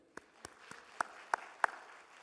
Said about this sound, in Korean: 박수 한번 해줍시다